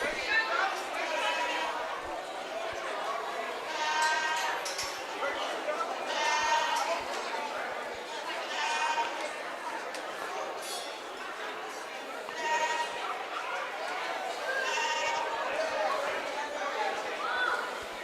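Goats bleat repeatedly in the pens at a youth stock show's pee-wee goat class, mixed with crowd chatter and occasional metallic clinks throughout.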